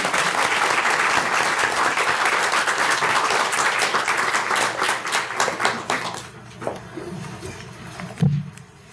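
Sustained audience applause welcoming a lecturer at a literature lecture, loud and dense for about six seconds before thinning into scattered claps and fading out.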